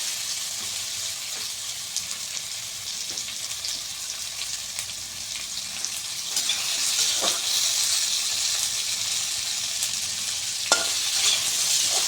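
Chopped tomato fries in a pan while cooking egg curry, giving a steady close sizzle with stirring scrapes and a few brief clinks, rising slightly louder in the second half, with no talk.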